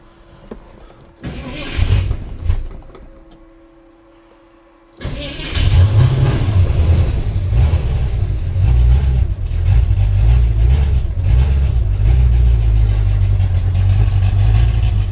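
A Ford Fairlane with a 5.0 V8 cranks, catches briefly and drops off, then fires firmly and holds a loud, rumbling rev close by, with no talk over it.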